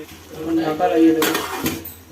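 A metal lid set down on a cooking pot of meat, a short clattering clank with a bright ring after a moment of low murmuring voice.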